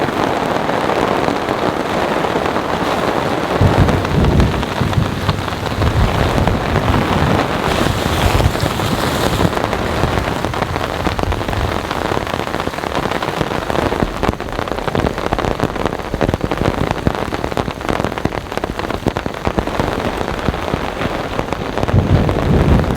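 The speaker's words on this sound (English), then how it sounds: "it's been about 30 minutes of heavy rainfall" Heavy rain pours and drums loudly and continuously on a tent tarp at a stormy campsite, a dense close roar with gusty wind; no distinct thunder stands out.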